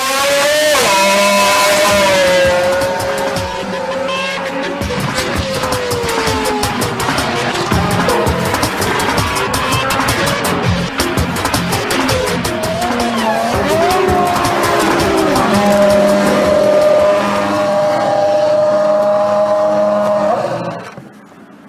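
Jordan EJ13 Formula One car on its first shakedown at Silverstone in January 2003, a loud high-pitched engine howl rising and falling through gear changes and passes, close and continuous before cutting off at the end.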